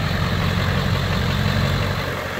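A 2001 Ford Excursion with a 7.3 liter diesel engine idles steadily, its low rumble and broadband clatter close and loud, continuous and unchanging with no voices.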